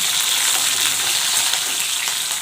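Green chilies frying in a pan for a curd-chili dish give off a steady, dense sizzle that stays even and close throughout, with no voices.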